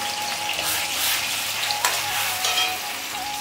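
Spice paste sizzling and frying in oil in a pan for biryani, with chilli powder and salt being stirred in; a steady close-up crackle with scraping stirs and no talking.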